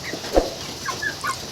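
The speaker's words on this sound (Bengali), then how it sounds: "তো এগুলো হচ্ছে আমার খামারের কয়লার মুরগি" Broiler chickens in a small farm shed give a few short clucks and soft calls close by, with a brief louder squawk among them.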